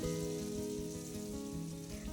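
Okra sizzles in hot mustard oil, a steady, close crackling hiss that carries on evenly without pause.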